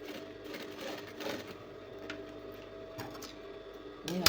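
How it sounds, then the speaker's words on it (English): Sewing machine stitching gathers on fabric for a ball dress, a quiet, steady mechanical ticking and whirring close by, with a slightly louder clatter at the very end and no talking. "We're going to sew both of them for gathers."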